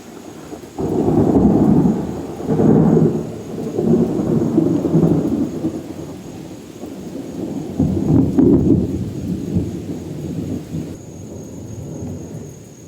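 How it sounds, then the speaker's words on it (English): A summer thunderstorm with low rumbling thunder rolling in repeated waves over steady rain, loud and close, the rumbles swelling and fading across the whole stretch with no talking. "The storm is getting loud."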